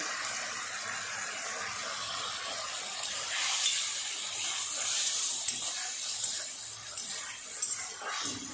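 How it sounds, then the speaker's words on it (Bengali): Water pours in a steady hissing stream into a pan of soy chilli gravy, close and continuous, swelling slightly partway through before settling. "সসের বাটি ধুয়ে আমি আরেকটু জল দিয়ে দিলাম।"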